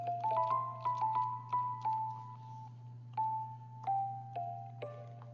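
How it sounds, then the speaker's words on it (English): Synthesized bell tones from the Storch VST ring out in a repeated melodic pattern, each bright strike decaying over a steady low drone, played alone with no voices. "That's one of my favorite bells."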